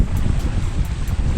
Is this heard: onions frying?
no